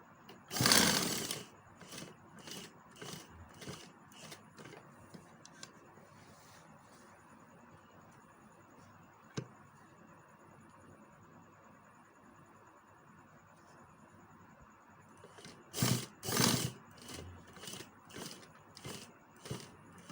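A sewing machine stitches a kurta in a fast run of rapid clicking needle strokes, with a longer quiet stretch of faint hum between the louder bursts.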